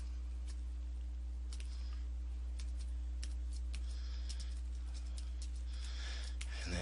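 Fingers type on a computer keyboard, faint scattered keystroke clicks in quick bursts over a low steady hum.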